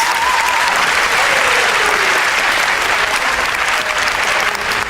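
Loud, sustained applause from a television dance show studio audience, thick clapping with scattered cheers and whistles over it.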